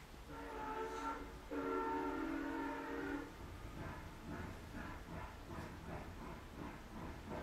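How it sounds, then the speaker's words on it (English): A passing train sounds in a theatre play staging, with a loud horn-like tonal blast rising over a steady rumble, then continuing clattering rail noise fading somewhat after a few seconds. "That's the second train."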